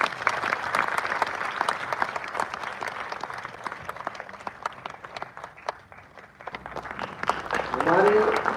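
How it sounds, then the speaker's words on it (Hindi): Audience applause fills a teachers' meeting hall, steady dense clapping sustained throughout and swelling louder near the end, with a faint tonal sound rising at the close. "अभिनंदन से पहले भी तालियां बज सकती है।"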